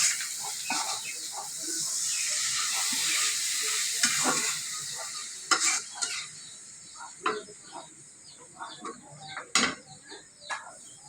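Spices being stirred and sautéed in a pot for country chicken curry, giving a continuous frying hiss with intermittent scrapes and knocks of the spoon, which become sparser toward the end.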